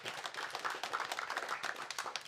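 Brief, fairly quiet round of applause from an audience at a Rethink Mental Illness annual meeting, dense scattered clapping lasting a couple of seconds.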